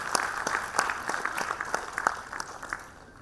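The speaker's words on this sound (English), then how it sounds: "Everybody, put your hands together and give him a round of applause." A round of applause from the audience at a university graduation ceremony, with irregular hand claps of moderate loudness that gradually thin out and fade toward the end.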